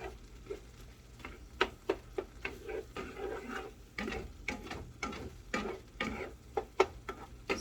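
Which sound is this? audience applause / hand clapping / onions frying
onions frying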